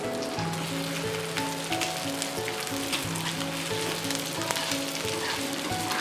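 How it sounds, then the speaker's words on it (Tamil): Soaked meal maker (soy chunks) frying in hot oil in a kadai, giving a steady, dense sizzle and crackle close by, with a low hum underneath throughout. "மொத்தமாக நம்ம ஊற வச்ச மொத்த மீல் மேக்கரையுமே வந்து இதில் போட்டுட்டு இதை வந்து நம்ம ஃப்ரை பண்ணி"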